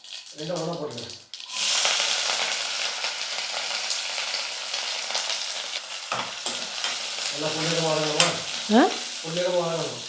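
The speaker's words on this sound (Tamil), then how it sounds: "ஒரு பெரிய வெங்காயம் கட் பண்ணி வச்சுக்கிறேன் கொஞ்சம் கருவேப்பிலை இதை வந்து வதக்கிக்கலாம்" Chopped onion and curry leaves sauté in a pan with a loud, continuous sizzle and some stirring, while a person speaks at the start and again near the end.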